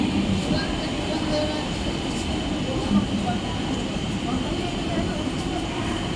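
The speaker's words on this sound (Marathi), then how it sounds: "प्लॅटफॉर्म क्रमांक 1 वर आलेली लोकल 10 वाजून 42 मिनिटांची कसाऱ्याला जाणारी ही लोकल" Steady low rumble of a Mumbai suburban local train bound for Kasara at platform 1 at night, continuous and fairly loud, with faint talk in the background.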